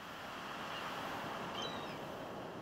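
Ocean waves heard while fishing in the Stardew Valley video game, a soft, continuous wash of surf with a faint airy hiss and no voices.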